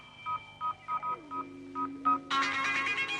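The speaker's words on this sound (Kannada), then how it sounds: "ಅವ್ರ ಮೊಬೈಲ್ಗೆ ರಿಂಗ್ ಕೊಡು." A phone dials a mobile number in a quick series of about eight short touch-tone beeps, faint and close, followed by a brighter burst of ringing or connecting tone at the end.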